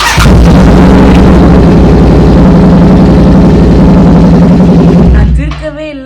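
Royal Enfield GT 650 twin fitted with an SS Moto Corp aftermarket exhaust silencer, a loud, steady low engine rumble running close for about five seconds before cutting off abruptly.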